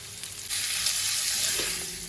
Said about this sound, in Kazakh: Енді сәбізді және қызыл тәтті бұрышымызды бірден салып қуыратын боламыз.